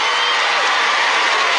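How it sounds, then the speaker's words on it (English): Audience at a stand-up comedy show clapping in a dense, loud, continuous burst of applause mixed with some cheering, steady from start to finish. "Clap, ladies, if you can't stand that."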